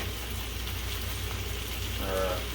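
Chopped onion sizzling in a pan along with tomatoes for chicken karahi, a steady close frying hiss throughout.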